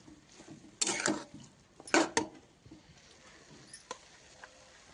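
A spoon mixing lentils into fenugreek greens in a pan, two short bursts of scraping and clinking with quieter stirring between, close but soft, with no talking.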